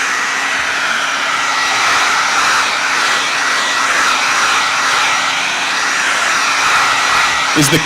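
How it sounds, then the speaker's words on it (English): A hair dryer drying watercolors blows steadily and loudly at close range, a continuous whooshing hum with a brief clatter at the very end. "she's using a hairdryer right now to speed up the process of drying the watercolors"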